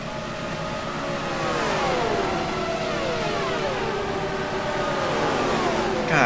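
Racing car engines at the 1978 Indianapolis 500 whine and rise in pitch as cars pass, overlapping sweeping tones heard at moderate distance, fairly faint, with no talk.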